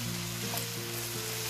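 Frozen onions sizzling in a hot pan for bhindi do piyaza, a dense, steady hiss that holds even throughout the brief stretch, with a faint low hum beneath.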